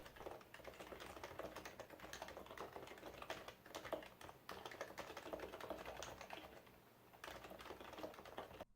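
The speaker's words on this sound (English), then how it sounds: "this is a typing test from the review of this keyboard" Fast, steady clacking of a BKE Redux Light mechanical keyboard as someone types continuously, crisp key strikes close up with a brief pause near the end.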